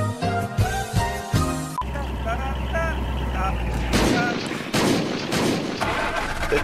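A grenade blast in a role-play game server comes as heavy booming bursts and rumbling impacts amid other loud game noise, with people talking over it.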